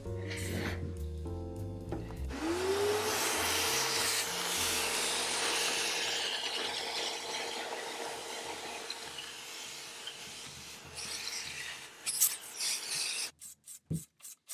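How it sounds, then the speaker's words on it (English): A hand scraper drags across painted wood furniture, stripping old paint in a long rasping scrape. Near the end come several short, separate strokes, all close and with no talking. "It was a lot of work scraping, but it wasn't the worst option for me."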